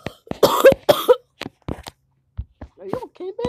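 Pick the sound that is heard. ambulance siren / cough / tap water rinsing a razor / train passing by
cough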